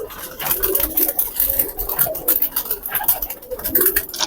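Many pigeons packed onto a rooftop loft and its coops coo continuously in layered, throaty calls, with steady fluttering and rustling from the crowded flock nearby.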